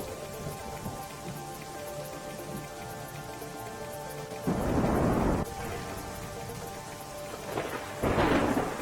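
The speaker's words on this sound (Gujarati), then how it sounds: "કચ્છમાં ભારે વરસાદને કારણે મુન્દ્રા તાલુકામાં ધોધમાર વરસાદ" Steady heavy monsoon rain pours throughout in Mundra taluka, Kutch, Gujarat, while two deep rumbles of thunder roll in, one midway and another near the end.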